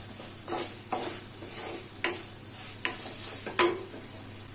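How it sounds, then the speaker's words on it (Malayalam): A spoon stirs Kashmiri chilli powder into mango pickle in a pan, making repeated scraping strokes at a steady rhythm over a faint continuous sizzle, close and moderately quiet. "ഇനി നമുക്കിതിലേക്ക് 1 സ്പൂൺ കാശ്മീരി മുളക് പൊടി അത് ഇട്ട് കൊടുത്തിട്ട് നല്ലപോലെ ഇളക്കി കൊണ്ട് കൊടുക്കാം"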